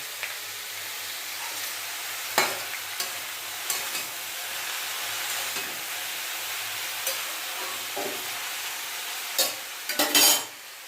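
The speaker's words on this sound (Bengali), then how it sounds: "এদিকে আবার তাওয়াতে মাছ ভাজা হচ্ছে" Fish frying on a griddle over a gas flame, a steady soft sizzle running throughout with occasional scraping and clinks of a utensil, louder metallic knocks near the end.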